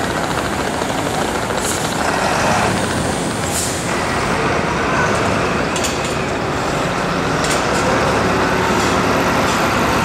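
Double-decker tour bus amid city traffic at Plaça de Catalunya, Barcelona: a continuous, loud engine rumble and road noise that never lets up, with no talking.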